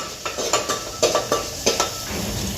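Masala spice paste fries in oil for stuffed brinjal curry, a soft sizzle punctuated by sharp, regular scrapes and clinks of a spoon stirring against the pan, close and without speech.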